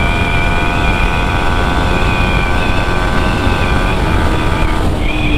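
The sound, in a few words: Yamaha MT-15 motorcycle engine accelerating from 0 to 100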